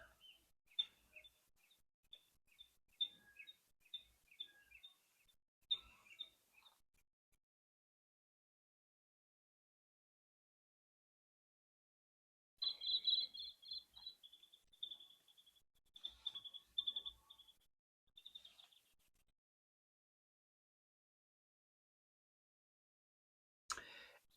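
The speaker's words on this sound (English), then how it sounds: "I have birds outside." Birds chirp and sing outdoors on a lovely day, with short bursts of calls at first and a longer, louder run of song later, separated by quiet stretches.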